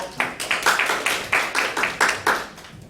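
Audience applause at a smart-city policy school presentation in Gangnam, a steady burst of clapping hands from a nearby crowd lasting about three seconds and tapering off at the end.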